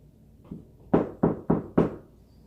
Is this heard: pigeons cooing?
no